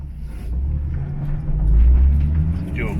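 A car's engine idles with a low, steady rumble that swells slightly as the vehicle pulls away, close and continuous, with no talking.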